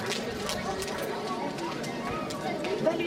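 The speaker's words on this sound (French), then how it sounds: "Vous pouvez l'applaudir, vous pouvez" A gathered audience in the commune of Allonne applauds Madame Poirier at her farewell, a steady patter of many hands mixed with chatter and voices throughout.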